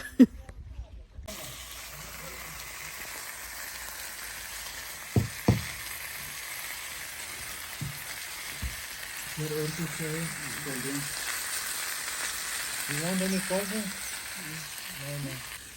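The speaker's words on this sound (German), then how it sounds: "jetzt ist der Fisch gekommen und der brutzelt noch und riecht so gut" Freshly fried fish, served at a roadside meal in Pakistan, sizzles with a steady, soft crackle. A few clicks occur early on, and voices murmur nearby in the later seconds.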